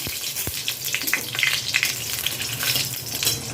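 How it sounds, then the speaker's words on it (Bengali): Two bay leaves sizzle in hot oil left over from frying potatoes, a steady close crackle with small pops throughout and no talking. "ওই একই তেলে আমি দিয়ে দিচ্ছি দুটো তেজপাতা।"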